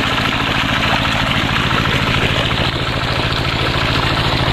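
A loud rice harvester engine runs steadily at idle, a continuous low rhythmic chugging throughout with no voices.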